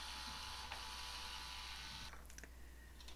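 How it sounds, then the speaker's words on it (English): Screws being backed out of a starter cast for sculpting a base: a steady, quiet mechanical whir runs for about two seconds, then stops, followed by a few small clicks. "so I'm going to take those screws out."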